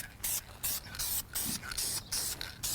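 Aerosol spray paint applied as a second coat to car wheels at home, in regular hissing bursts of about a third of a second each, close and steady with short gaps between them.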